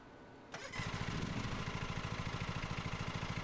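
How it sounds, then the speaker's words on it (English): A ride-on lawnmower in the Lawn Mowing Simulator video game cranks and fires up after a short quiet start, then settles into a loud, steady idle with an even pulsing beat. "Hold square to start the vehicle's engine."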